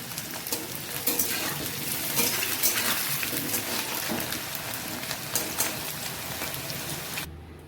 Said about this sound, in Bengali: আলুটা ভাজা হয়ে গেছে এখন পটলটা ভেজে নিচ্ছি